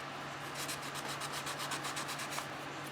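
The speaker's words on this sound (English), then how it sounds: "But first it needs to be scuffed up real good." A 20-thousandths aluminum separator being scuffed with abrasive for epoxy adhesion gives a steady, continuous rasping rub that runs alone at moderate level, with faint rhythmic strokes pulsing through it.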